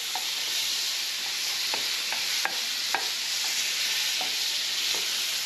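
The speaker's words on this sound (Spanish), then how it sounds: "vamos a agregar la mantequilla" Butter sizzles in a frying pan over medium heat, a steady bright hiss punctuated by small pops and occasional utensil stirring clicks, close and with no talk.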